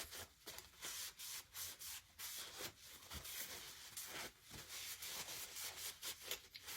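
Cloth wiping antiquing wax off the outer ring of a small wooden embroidery hoop, a soft steady rubbing in quick repeated strokes, close and fairly quiet, with no talk.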